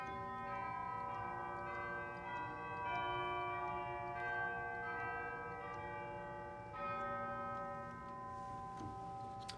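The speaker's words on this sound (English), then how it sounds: "We have one color percussion stop that happens to live on the grate, and that's a set of chimes." Pipe organ chimes stop at Trinity Cathedral rings out in sustained, overlapping bell tones, a faint, reverberant stream of struck notes blending together with no speech.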